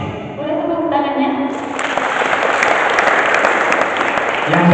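A seated audience at an Indonesian lecture event bursts into loud, steady applause that swells and holds, following a voice introducing guests.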